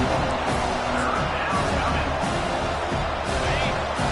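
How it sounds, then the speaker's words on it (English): A packed stadium crowd roars on third down in the CFB25 college football video game, a dense, steady wall of loud cheering and noise with commentary voices underneath. "Third down, and this crowd is tearing the lid off this place."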